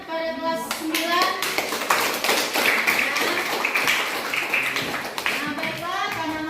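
Ninth-grade students in a classroom clap together in dense, steady applause, with children's voices and chatter mixed through it and a teacher speaking at the start and end.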